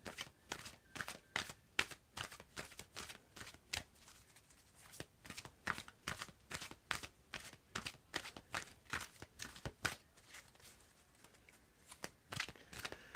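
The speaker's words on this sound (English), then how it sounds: "Tell me when to stop shuffling, Maria." Tarot cards shuffled by hand in a steady run of quick, crisp riffling slaps, dozens of sharp card snaps repeating close and clear with no talking.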